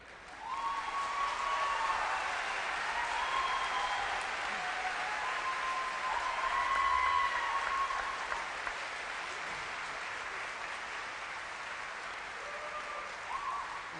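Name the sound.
graduation audience applause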